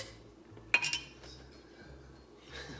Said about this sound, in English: And just give that a stir.